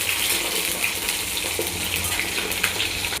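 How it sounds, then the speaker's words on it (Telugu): Eggplants deep frying in hot oil make a steady, close, hissing sizzle that runs the whole time with small crackling pops and no talking. "ఆయిల్లో ఇలా డీప్ ఫ్రై చేసేసుకోవాలి."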